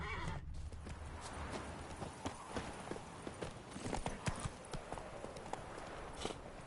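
Horse hooves galloping in a race in the video game Witcher 3, a steady rapid clip-clop with occasional snorts and whinnies, moderately loud and close, with no talk over it.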